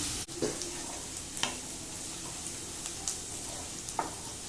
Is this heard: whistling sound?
no